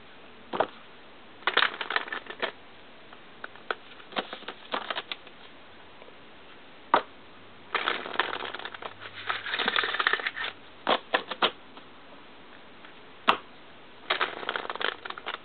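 Tarot cards being shuffled by hand: close, crisp riffling and flicking bursts come in irregular clusters separated by quiet pauses, with no talking.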